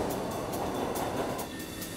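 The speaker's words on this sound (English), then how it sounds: "Train coming on time." Rumbling approach of a New York City subway train at rush hour, a steady broad roar with faint rhythmic clatter that eases slightly near the end, no voices.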